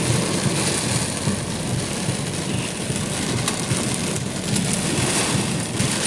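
Heavy rain pours steadily during a severe thunderstorm in Pennsylvania and Ohio, with ice pellets scattered through it as faint sharp ticks against the constant hiss. No one talks.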